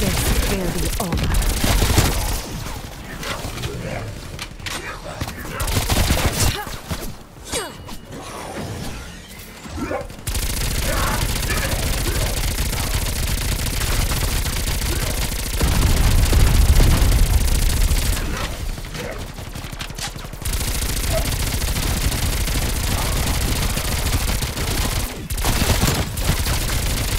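Heavy gunfire from an orange gun, an M16, in Call of Duty: Black Ops Cold War, in loud sustained bursts with brief pauses, mixed with explosions and crashes across the clip.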